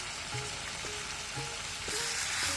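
Beef kala bhuna frying in a pan, a quiet crackling sizzle broken by several rhythmic stirring scrapes of a spoon against the pan, close by with no talk.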